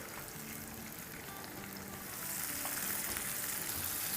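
Crushed garlic and green chili paste sauté in hot oil, giving a steady close frying hiss that swells slightly louder partway through.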